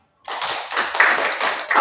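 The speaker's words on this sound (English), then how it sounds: "Now, please give applause to them." A classroom applauds a presenting group, a short burst of dense, close hand clapping that starts abruptly after a moment of silence.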